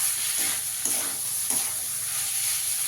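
Rice and chicken are stirred in a frying pan for chicken pulao, a steady hiss of frying broken by a few soft scraping strokes of the spoon, with no talking.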